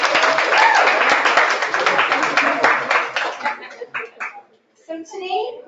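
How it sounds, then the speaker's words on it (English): Applause from an audience at a 2019 orientation welcome session fills the room for about four seconds, a dense wash of clapping that thins into scattered claps and then breaks off as a voice starts. "So there's some round of applause."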